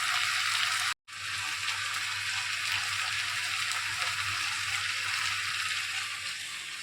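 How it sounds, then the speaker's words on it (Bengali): Meat frying in butter in a pan gives a steady, close sizzle, with a light patter of rain in the background. The sound breaks off for a moment near the start and then carries on evenly. "মাংসটা ভাজা চলছে।"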